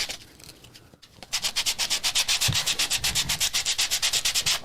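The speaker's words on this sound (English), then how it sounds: "I have to like talk really loud to talk over the sanding" Hand sanding of wooden coasters, rapid rhythmic back-and-forth scrubbing strokes that start after a quieter second and continue loud and close, alone without talk.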